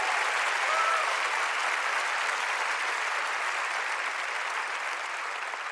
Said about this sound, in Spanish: Dale fuerte el aplauso al Señor y créelo.